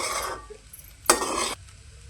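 A spoon scrapes and stirs chili powder and garam masala through vegetables sizzling in a pan for homemade veg fried rice. Two short bursts of stirring stand out above a quiet frying hiss, with no talking.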